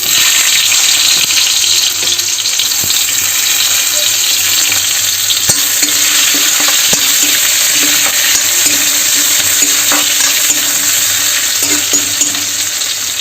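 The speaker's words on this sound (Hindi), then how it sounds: "तो तेल हो गया गरम, में डाल देता मैं जीरा और हर बाद फिर डालूँ प्याज काट के रखा हूँ पहले।" Chopped onions and cumin seeds fry in hot oil with a loud, continuous close sizzle and hiss, broken by occasional soft ticks of stirring, with no talk.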